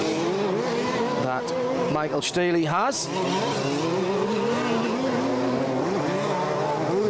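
Large-scale 2WD off-road RC race cars at a European Championship final buzz around the track, with a high engine whine rising and falling as one sweeps past, beneath continuous excited commentary.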